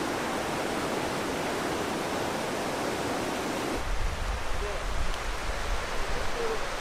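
A waterfall in Valchiavenna, Lombardy, gives a steady, close, roaring rush of falling water that stays continuous. Partway through, a deeper rumble joins the roar.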